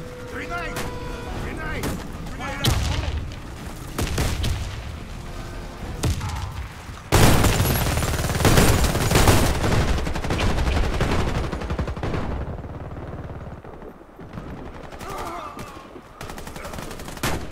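Heavy gunfire and booming blasts, including a loud grenade explosion near the middle, in a Warface competitive match, a continuous dense wash of shots with voices calling out over it.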